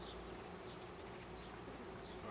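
Honey bees buzz in a steady, dense drone while frames are lifted during a first inspection of a GrassHopper beehive, a continuous hum with no talk.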